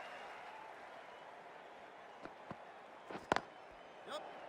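Stadium crowd in the Cricket 24 video game cheers a boundary during an IPL match, CSK vs MI, as a steady broad roar with a few sharp knocks and thuds near the end.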